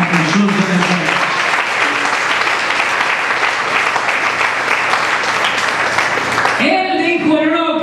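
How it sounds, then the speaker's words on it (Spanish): A church congregation bursts into loud, sustained applause during a Spanish-language sermon, a thick continuous roar of clapping that stops abruptly near the end as a voice takes over. "Den un aplauso a Jesús de Nazaret."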